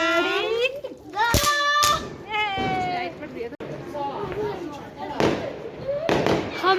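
Diwali fireworks in a village: chakri spinners, anar fountains and firecrackers. Sharp cracks and bursts of hissing sparks come in loud bursts, with children shouting and talking throughout.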